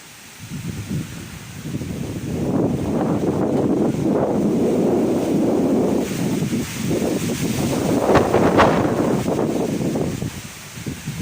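Strong typhoon winds of Storm Ulysses at landfall in San Carlos City, Pangasinan, roar and gust loudly across the microphone for the whole stretch, with rustling trees and surging buffets and no speech.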